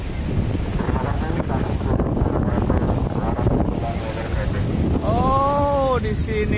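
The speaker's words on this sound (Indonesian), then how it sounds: "saat ini kita lagi berada di pantai" Wind buffeting the microphone over steady surf at Pantai Duta beach in Samboja, a loud continuous roar of waves and gusts, with a brief tonal whine near the end.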